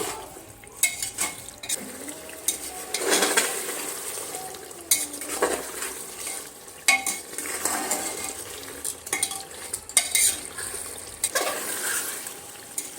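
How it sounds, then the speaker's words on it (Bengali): Chicken with ginger-garlic paste is stirred and sautéed for a biryani, with a spatula scraping and clinking against the pot in irregular bursts over a soft background sizzle, close by and without speech. "আবারও আদা রসুনটা দিয়ে আরও মিনিট পাঁচেক সময় নিয়ে আদা রসুনটা ভালো করে কষিয়ে নিতে হবে"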